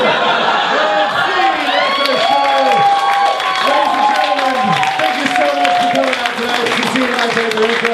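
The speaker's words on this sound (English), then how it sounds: "Give a round of applause for Conor" An audience at a short-form improv comedy show breaks into loud, sustained applause with cheers and whoops, the clapping steady throughout while a voice talks over it.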